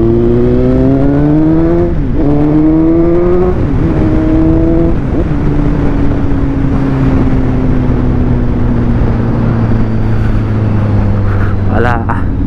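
A Suzuki GSX 750 inline-four motorcycle with an SC Project exhaust drones loudly and steadily while riding, its pitch rising and falling through gear changes, then holding a sustained cruising tone, with a voice talking over it.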